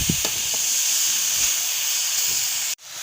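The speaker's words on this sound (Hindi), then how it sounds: "हम इसको साथ साथ भून रहे हैं" Grated carrot halwa roasting in a pan, a continuous hissing, steamy sizzle with a few faint knocks early on, cutting off abruptly near the end.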